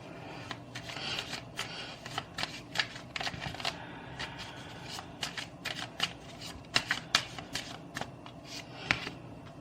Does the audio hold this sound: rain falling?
no